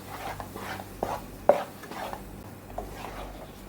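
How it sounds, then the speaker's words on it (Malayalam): Spoon stirring a banana snack mixture with cardamom powder in a pan, making soft scraping strokes and a few light knocks against the pan in a steady rhythm, close and fairly quiet. "ഇതെല്ലാം കൂടെ നമുക്കൊന്നും കൂടെ ഒന്ന് ഇളക്കാം"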